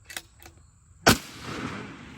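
A 6.5 Creedmoor rifle shot on a long range shooting session, a single sharp report with a rolling tail, heard after two short spoken words and somewhat distant.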